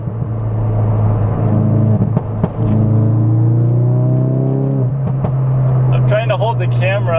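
A car fitted with an aftermarket exhaust accelerates hard, heard from inside the cabin as a loud, steady engine drone with rising pitch, briefly dipping between gear changes, under some background speech.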